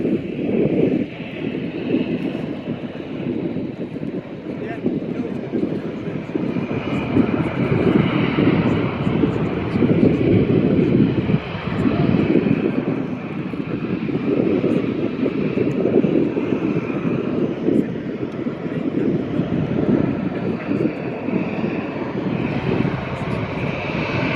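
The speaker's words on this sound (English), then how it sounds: "taxiing towards us is a Ryanair 737-800" A Ryanair Boeing 737-800 taxis at Manchester Airport, its jet engines a steady, fairly loud rumble and whine that holds throughout, with some wind buffeting the microphone nearby.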